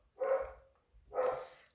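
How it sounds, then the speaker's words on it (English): A dog barks twice, two close, fairly loud barks about a second apart indoors, with no talking. "let me just go and quiet my dog a little bit"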